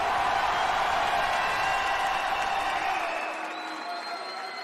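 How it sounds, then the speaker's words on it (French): Boxing crowd around a ring applauding and cheering for a fighter, a dense, loud wash of claps and voices that thins slightly toward the end. "je vais vous demander encore une fois de les applaudir comme il se doit"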